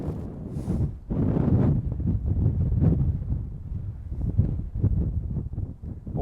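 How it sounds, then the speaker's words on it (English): Wind gusts blowing across a disc golf course, rough buffeting rumble against the microphone that surges and fades in uneven bursts, fairly close and moderately loud, with no talk. "Give me a 2-second break from that wind here."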